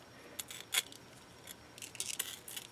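Scissors snipping through a length of metal ball chain, heard as a few quiet, sharp metallic clicks and ticks spaced unevenly in a still room.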